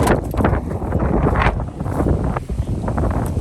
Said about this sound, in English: So it is a little windy today